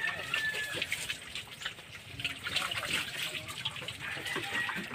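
Water poured and splashed while changing a piglets' drinking trough, a steady trickling and sloshing that runs continuously and fairly close.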